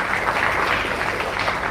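Audience applause at a Hindi spiritual discourse, a short steady patter of many hands clapping at once, fairly loud and even.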